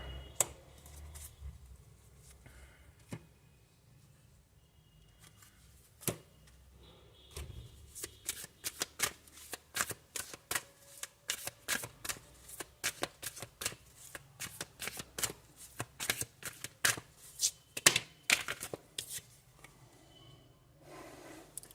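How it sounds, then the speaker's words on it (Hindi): Tarot cards being shuffled by hand, starting with sparse soft riffles and then building into a dense run of crisp, close snapping shuffles, with no talking over them. "अगर आपको कार्ड शफलिंग पसंद नहीं है तो आप इसे स्किप कर सकते हैं"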